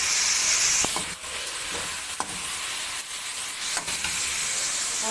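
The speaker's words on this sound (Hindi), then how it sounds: "अब हम इसमें मटर ऐड करेंगे। थोड़ी देर भूनेंगे।" Chicken and peas fry and sizzle in a pan, a steady hiss with occasional stirring scrapes and clicks, close and moderately loud, no talking.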